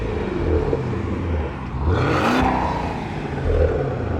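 A chipped Porsche Panamera GTS with a modified exhaust revs repeatedly, close and loud, with a rising roar and whoosh in the middle between lower idling rumbles.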